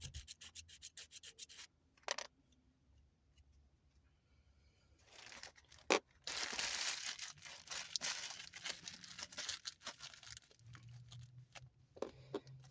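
Sharp scissors snip and slice through thin plastic bags, cutting them into strips for plastic yarn; faint crinkling and rubbing with a few sharp cutting bursts, close up and without talk.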